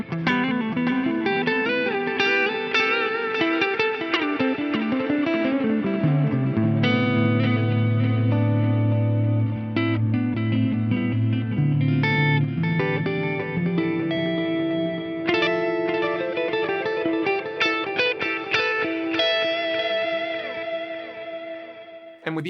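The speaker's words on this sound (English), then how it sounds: "let's say we go for a 600 millisecond delay over here. I'm going to add a whole bunch of feedback and bring the echo mix up." Electric guitar played through a Fractal FM3 with a 600 ms delay and heavy feedback, notes and chords repeating in long, dense echo trails that stack into a sustained wash, loud and unaccompanied by talk.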